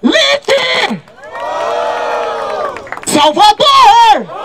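A live crowd at a hip hop rap battle roars and cheers for a couple of seconds, loud and sustained, bracketed by an MC shouting to hype the audience.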